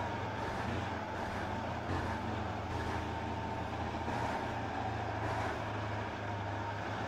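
A logging truck's diesel engine in the Spintires off-road game, a low steady rumble with a constant drone that holds throughout, swelling slightly at moments as the revs shift.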